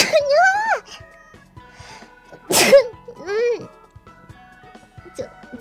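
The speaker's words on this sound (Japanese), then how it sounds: "急にくしゃみ出た。" A single sharp sneeze bursts out midway between stretches of a woman's high, animated voice during a live stream, loud and close to the microphone.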